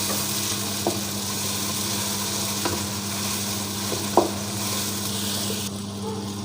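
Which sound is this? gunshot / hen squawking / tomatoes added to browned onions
tomatoes added to browned onions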